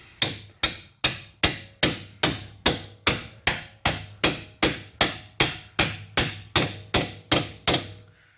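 A hammer taps a part home on the rear suspension of a Vauxhall Insignia during a coil spring replacement, striking about sixteen times in an even, fast rhythm with sharp, close metallic blows, each ringing briefly before the next.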